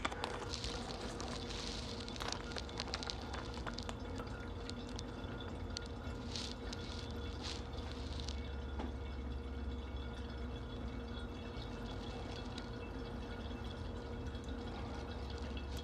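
Brandy and liquid being poured slowly while making homemade Grand Marnier, a faint steady trickle with scattered drips and small splashes, close by and quiet, with no talking.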